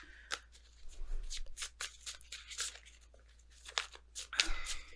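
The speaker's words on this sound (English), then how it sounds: "If I could get the shuffling part down." Rapid papery riffles and soft slaps of tarot cards being shuffled, in several short bursts with brief pauses, close to the listener and fairly quiet.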